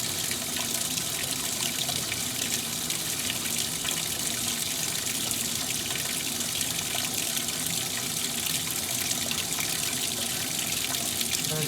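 Water pours steadily into a Maytag washing machine as it fills at full pressure, a continuous rushing hiss from the inlet that stays loud and even throughout with no talking.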